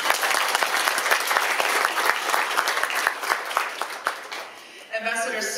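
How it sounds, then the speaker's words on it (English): Audience applause at the Southeast United States Economic Partnership Conference 2024 in Atlanta, a steady roomful of clapping for several seconds that thins out before a speaker's amplified voice resumes. "Give yourselves a round of applause for being here this morning."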